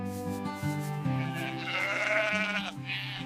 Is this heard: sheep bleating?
yes